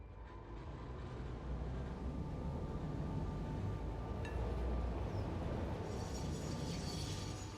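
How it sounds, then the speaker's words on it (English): A train in the Satisfactory factory-building game rumbles past as a steady, loud low roar that swells slightly midway, alone with no talk. "I let that train go by."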